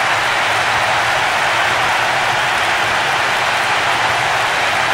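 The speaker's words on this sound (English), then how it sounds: "The capacity crowd are enjoying the goal celebration." A capacity stadium crowd in the football video game PES 6 roars through a goal celebration, a dense, loud, unbroken wash of cheering noise that stays level the whole time.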